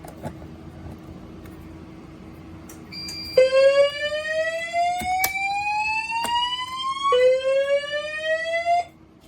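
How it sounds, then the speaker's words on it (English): A Potter PFC 4064 fire alarm, set off by a heat detector during a system test, whoops in repeated rising sweeps, loud and close, starting a few seconds in after a quiet stretch and cutting off at the end. "now we're gonna go ahead and activate the heat detector"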